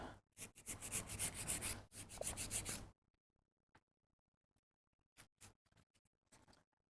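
A nail file rubs back and forth to remove excess gel from sculpted gel nail extensions, a quick run of close, gritty scraping strokes, then near silence broken by a few brief faint rasps.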